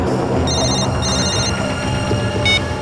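Telephone ringing with repeated electronic bell trills in short bursts, heard over a dense, steady background rumble of a bus depot.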